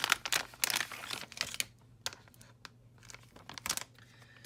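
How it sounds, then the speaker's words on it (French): A new Samsung Galaxy replacement screen block being unboxed from its Samsung service pack box: close, dry bursts of tearing and crinkling packaging, busy at first, then sparser crackles and taps. "Donc on va prendre notre nouvel écran que l'on va déballer"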